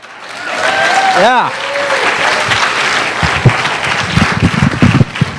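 Audience applause at a live design prize ceremony inside a museum hall, a steady dense clapping that swells and holds for several seconds, with a brief voice and a rising whistle-like tone early on and scattered claps continuing toward the end.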